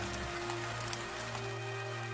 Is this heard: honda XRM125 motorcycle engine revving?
no